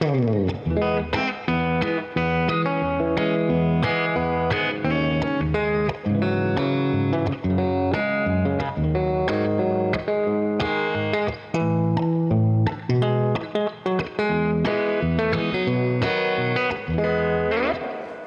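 An electric guitar on its bridge pickup, a replica of the Gibson "Greeny" Les Paul, plays a bright, twangy clean melodic passage with chords and single notes, loud and continuous with some reverb.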